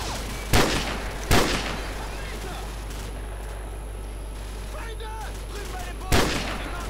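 Video-game gunfire from Call of Duty 4: Modern Warfare's War Pig mission: three sharp, loud shots spaced irregularly over a steady background rumble of battle ambience, with no talk over them.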